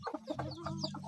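Chickens, two roosters and a hen, in a pen cluck in a quick run of short, close calls over about a second, with no talking.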